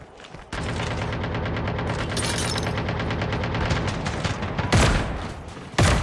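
Rapid bursts of automatic gunfire in a battle royale video game, loud sustained volleys with a sharp shot or two near the end.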